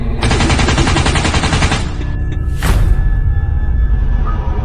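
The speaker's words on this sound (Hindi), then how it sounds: "जंडू चाचा सरकटा और स्त्री की तरफ गोलियां चलाने लगते हैं।" Sustained, rapid machine-gun fire rattles loudly for about two seconds, then a sharp whooshing blast and lingering rumble follow.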